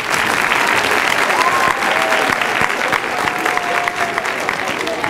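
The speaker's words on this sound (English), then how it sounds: "Let's give them a round of applause again." An audience at a school Veterans Day assembly claps in a full, steady round of applause, with faint crowd murmur and a few voices mixed beneath the clapping.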